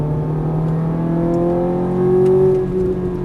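A sports car accelerates around a track, its steady engine drone heard from inside and climbing gradually in pitch under full throttle, loud and close, with no voices.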